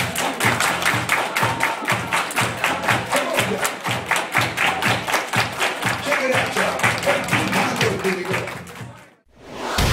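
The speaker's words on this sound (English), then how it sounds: "Everybody clap your hands." A holiday-party crowd claps hands in a steady, loud unison beat, responding to a DJ's call-and-response dance routine, the rhythmic claps continuing for several seconds before a brief pause near the end.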